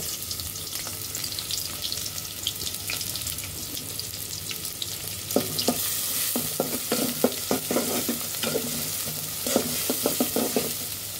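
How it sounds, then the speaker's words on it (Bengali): Chopped onion and garlic fry in white oil, a steady broadband sizzle with a low hum beneath, joined midway by a run of scraping stirs and utensil knocks that tap irregularly through the second half. "এখানে আমরা পেঁয়াজ কুচি এবং রসুন কুচি দিয়ে দিব।"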